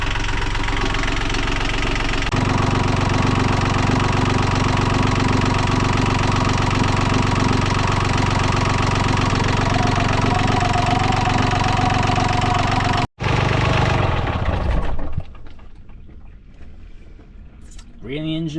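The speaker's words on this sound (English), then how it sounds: "ran the engine for 10 minutes with that stuff in there" A sailboat's inboard engine runs steadily at idle during maintenance in a harbor, a loud continuous knocking drone for about fifteen seconds that then cuts out, leaving faint background noise and a voice.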